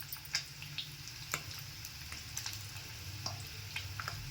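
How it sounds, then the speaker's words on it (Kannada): Paneer shallow frying in a pan gives a steady, close sizzle with light crackles and a few soft utensil taps throughout, no voices. "ಅದನ್ನು ಇವಾಗ ಸ್ವಲ್ಪ ಶಾಲೋ ಫ್ರೈ ಮಾಡಿ ತಗೊಳ್ಳೋಣ."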